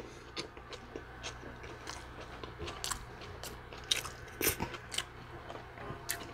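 Close-up wet chewing and biting on a loaded chili cheese hot dog, with irregular squishy smacks and crunchy bites coming in bursts and no talking.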